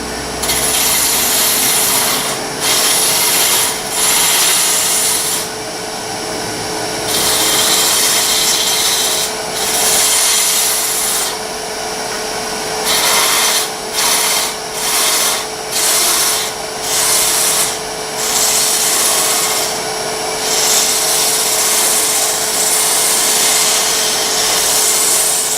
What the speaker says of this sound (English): I'm going to be using my round nose scraper. It seems to work very nicely on this wood.